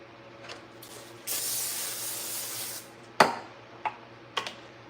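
A steady hissing spray from an aerosol can of avocado cooking oil lasts about a second and a half, followed by a few sharp clicks and taps.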